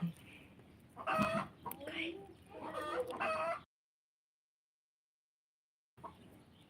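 Chickens cluck and squawk close by in a busy run of calls that breaks off into silence, then resumes faintly at the end.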